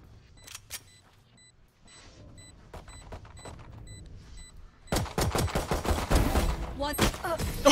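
Gunfire in a first-person shooter video game: a few scattered single shots early, then a loud, dense burst of rapid firing in the last few seconds, with no talking.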